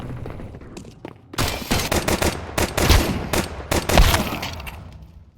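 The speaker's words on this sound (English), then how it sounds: "Humbo standing his ground with some Glock spam to bring down Turk despite a Mag 7 close range" Video-game gunfire from a Glock pistol and Mag 7 shotgun in a competitive match on the Nuke map: rapid clusters of sharp, loud shots in bursts, with brief gaps between volleys.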